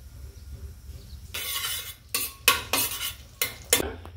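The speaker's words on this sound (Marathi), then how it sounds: "आता इथे आपल्याला फोडणीसाठी बटर घालून घ्यायचं आहे आणि थोडं आपल्याला तेल घालायचं आहे" Butter and a little oil heat in a pan as tempering for Mumbai-style pav bhaji: a quiet hum at first, then bursts of soft sizzling and utensil scrapes close by.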